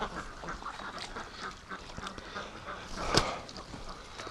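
Muscovy ducks mating in a small flock near a tub, with soft, raspy calls and hissy quacking, one louder squawk standing out near the end, and steady outdoor background noise.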